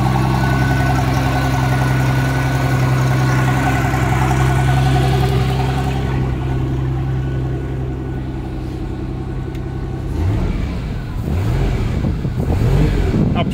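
A Chevrolet 4.3 V6 marine engine in a Bayliner boat idles with a steady low hum, eases off, then surges with rougher revving near the end.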